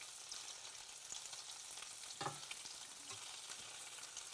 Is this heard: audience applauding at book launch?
no